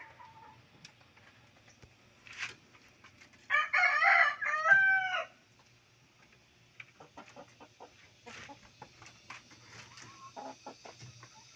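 Hens on their nests clucking among chickens, with a loud rooster crow bursting out in the middle, then softer scattered clucks and chicken calls continuing near at hand; no talking.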